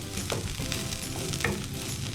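Chopped white onion frying in a pan with a dense, continuous sizzle, crackling close by and two brief stirring scrapes.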